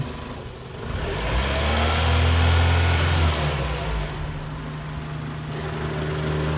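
A B16-swapped 1996 Honda Civic EK hatchback idles steadily up close while its radiator cooling fan whirs on, with a mild swell in engine note partway through and no one talking.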